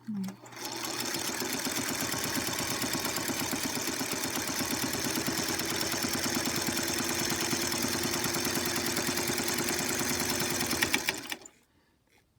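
A sewing machine stitches a 1-inch wide tuck with a tuck attachment on a sampler block, running in a fast, steady mechanical chatter up close for about eleven seconds before stopping abruptly.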